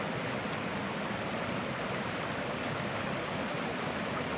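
Creek water flows steadily around a rock in the middle of the stream, a continuous broadband rush that holds even throughout with no talk over it.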